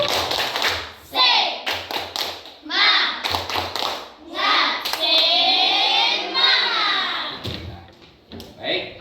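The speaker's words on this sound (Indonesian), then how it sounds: "Mari kita terlebih dahulu tepuk semangat." A school class performs a rhythmic spirit clapping chant, with children's voices calling out in bursts between loud groups of patterned claps close by.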